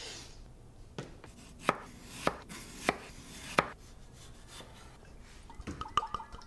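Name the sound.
slicing Yukon Gold potatoes thin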